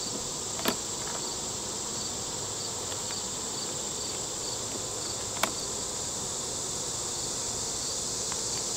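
Honey bees buzzing around an open hive during an inspection, a dense, steady, close drone with a couple of sharp clicks and no talking.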